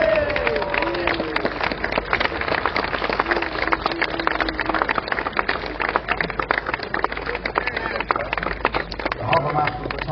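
A crowd cheering for a harbour master named Brian as he appears, a dense, continuous roar of clapping and shouting voices that holds steady throughout.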